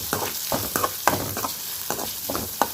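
Onions, curry leaves and dal sauté in a pan under a steady close sizzle, punctuated by repeated scraping strokes of a spatula stirring at an irregular rhythm.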